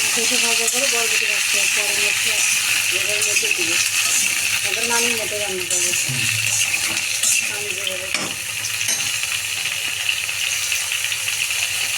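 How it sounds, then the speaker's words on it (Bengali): Sliced papaya frying in hot oil, a steady broadband sizzle and hiss running throughout, with someone speaking over it for much of the time. "তেলটা গরম হয়ে গেছে এখন পেঁপে পেঁপে কি ভেজে পেঁপে ভেজে নিলাম"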